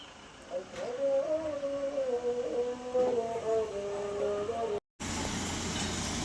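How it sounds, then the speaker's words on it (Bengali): Darjeeling toy train, a diesel locomotive used for tourist rides, rumbles past close by in hill-town surroundings, a steady loud drone with a humming tone that cuts off abruptly near the end. "হ্যাঁ গাইস, টয় ট্রেন যাচ্ছে।"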